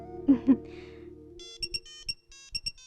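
Electronic phone ringtone chimes in short repeating bursts, entering after a brief low thud and hum, playing clearly with no talk over it.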